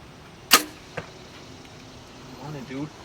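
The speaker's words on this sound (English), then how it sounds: "Put this arrow right in that same spot." A sharp arrow from a Mathews V3 bow thwacks into an archery target, followed by a softer second impact; a voice murmurs briefly afterward.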